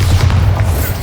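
A Bombarda blasting spell from the Hogwarts Legacy video game, a single deep booming burst, loud and close, heavy in the low end.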